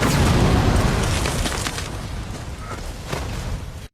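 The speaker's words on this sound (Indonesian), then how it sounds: "meledak." A dramatic explosion effect produces a loud, dense rumbling roar that holds for several seconds, slowly thins out, then cuts off abruptly.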